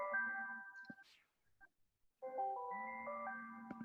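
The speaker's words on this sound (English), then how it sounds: "I don't know why my phone's ringing." A mobile phone rings with a bright melodic chime tune, two bursts of repeating tones separated by a short pause, fairly close and clear with no talking.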